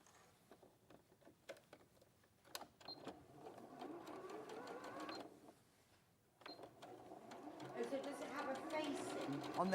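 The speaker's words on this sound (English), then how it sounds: "I'm gonna sew that V-neck with 1/4 inches." A domestic sewing machine stitches a quarter-inch seam along a V-neck facing in short bursts, its rapid needle clatter running in two longer stretches, with people chatting quietly underneath.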